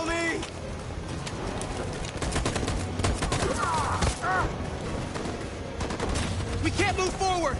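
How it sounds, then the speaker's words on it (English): Sustained machine gun fire and scattered shots in a Detroit: Become Human battle scene, loud, dense bursts going on without pause, with brief shouted voices and bird-like chirps mixed in. "That machine gun is taking down everything that moves!"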